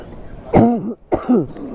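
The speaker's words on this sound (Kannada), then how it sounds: "ನನಗೆ ಕೆಮ್ಮು ಜಾಸ್ತಿಯಾಗಿ ಗಂಟ್ಲು ಒಡ್ಸ್ಕೊಬಿಟ್ಟಿದೆ" Two harsh, raspy coughs from a person with a heavy cold sound close by, one after another with a brief pause between them.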